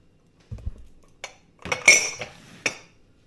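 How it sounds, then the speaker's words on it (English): Metal pots are lifted down from storage one after another, giving a few sparse, close clanks and bright clinks separated by short pauses. "I'm just going to get all these pots down."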